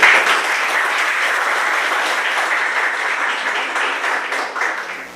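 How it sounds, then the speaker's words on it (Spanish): An audience at a food-safety talk gives a loud, sustained round of applause to welcome the speaker, dense clapping that holds steady before tapering slightly at the end. "Lo recibimos con un fuerte aplauso."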